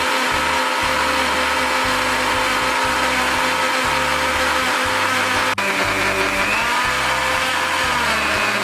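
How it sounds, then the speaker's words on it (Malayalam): Mixer grinder blending a strawberry protein milkshake with ice cubes, a loud steady whirring drone that runs without a break, with a brief click partway through and no talking. "ഇതൊന്ന് മിക്സിയിൽ അടിച്ചിട്ട് വരാം."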